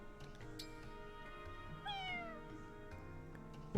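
A cat in the video game Fire Emblem Engage gives a clear, drawn-out meow over a faint game music backdrop, a single sliding cry in the middle, with no speech.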